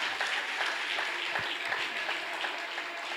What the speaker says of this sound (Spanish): darle un aplauso más fuerte al Señor